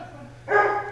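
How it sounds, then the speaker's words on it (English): A dog gives a single short bark close by, a brief sharp yip rising out of a quiet room hum near the end. "Hey, Mig, simmer down. That's my dog."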